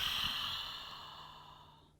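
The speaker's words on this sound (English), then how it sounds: "Take a big breath in and out" A single deep, slow breath in and out during a shoulder-release stretch in a modified yoga class, a soft airy sigh that fades gradually over about two seconds, close and alone with no talking.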